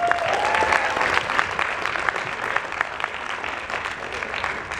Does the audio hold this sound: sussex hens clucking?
no